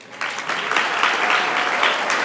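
An audience at a peace studies graduation celebration and awards ceremony breaks into loud, steady applause, a dense wash of clapping that swells quickly and carries on without pause.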